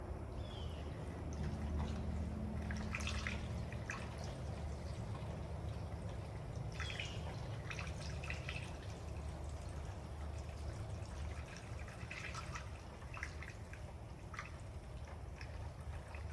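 Liquid pours from a bottle into a car's cooling system in a steady, quiet trickle and gurgle over a low background hum, lasting throughout.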